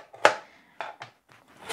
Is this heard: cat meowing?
no